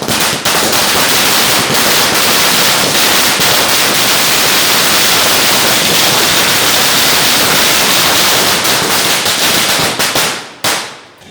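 Firecrackers burst at an outdoor celebration held by a district journalists' association, a dense, loud, continuous string of rapid cracks and pops that cuts off sharply near the end.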